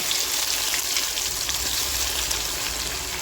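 Fish frying in hot oil, a steady loud hiss and crackle of sizzling that holds evenly throughout without breaks or voices.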